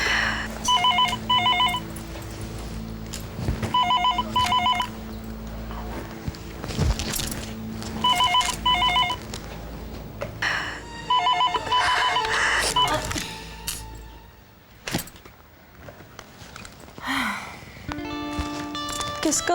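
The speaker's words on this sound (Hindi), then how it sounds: "कोई फोन क्यों नहीं उठा रहा भाई?" An old-style telephone bell rings in repeated double bursts, loud and close, left unanswered in a house at night; a person's voice and some shuffling footsteps come between the rings.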